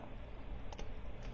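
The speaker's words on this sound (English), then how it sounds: "Let's type that." A few faint keystrokes on a computer keyboard, a quick pair of clicks and then a lone tap, alone against a quiet room hiss.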